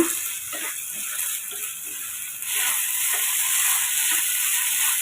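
Semiya upma, vermicelli, sizzles steadily in a hot pan while being stirred, a constant close frying hiss with soft scraping strokes throughout and no talking.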